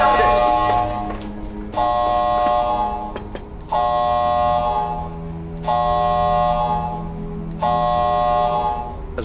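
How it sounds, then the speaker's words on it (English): A major incident alarm repeats a loud electronic buzzing tone in regular pulses about every two seconds, sounding over a steady hum with no break. "the major incident alarm has sounded"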